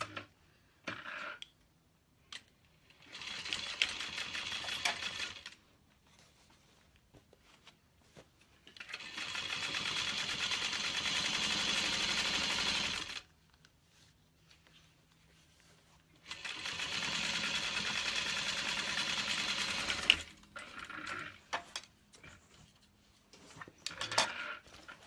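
Sewing machine top stitching a bag, running in three separate bursts of steady rapid needle whirring, each lasting a few seconds, with quiet gaps and small clicks of handling between them.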